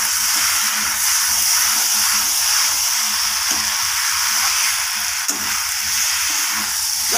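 Potatoes and chicken feet frying in oil in a pan, a steady loud sizzle and hiss that runs without pause, with faint bubbling beneath.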